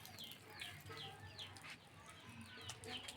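A hen that lays thirteen eggs clucks repeatedly in a farmyard, with other fowl calling around it and faint wing flaps, close and fairly loud over low background noise.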